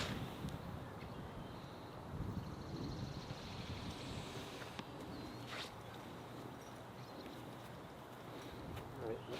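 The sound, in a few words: wind blowing on a golf course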